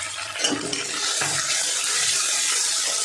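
Water running and splashing as a spice bowl is rinsed out in a home kitchen while cooking a raw papaya dhoka curry, a steady close wash with a brief louder splash near the start.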